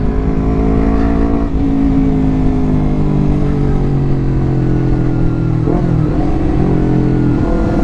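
A Honda CBR250RR sport bike with its odometer in the 3,000s drones at a high, steady rev, close and loud, with a brief dip and rise in pitch partway through and no voices.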